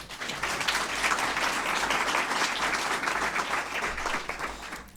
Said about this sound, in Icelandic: gefið þér gott klapp